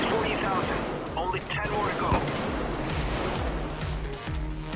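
Gunfire, including sniper shots, cracks during a heist shootout in Payday 2, with rapid repeated reports and echoing impacts while players talk over the din.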